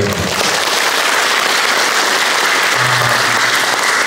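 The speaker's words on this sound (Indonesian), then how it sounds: "Kita tepuk tangan dulu untuk prodi ini." Sustained applause from a large crowd at an inauguration ceremony, dense and steady clapping filling the whole stretch at high volume.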